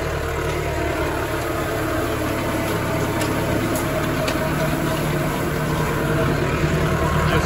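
A tractor engine idles at low RPM while tedding hay, a steady low drone with a constant mechanical rumble that stays even and close throughout, with no voices.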